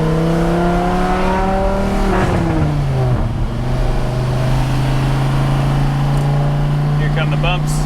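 A 2001 Dodge Viper RT/10 with a Belanger exhaust drones loudly from inside the car while driving, its V10 note climbing and then dropping with a shift and settling into a steady low rumble, with a voice talking over it.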